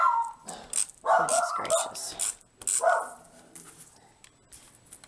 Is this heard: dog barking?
yes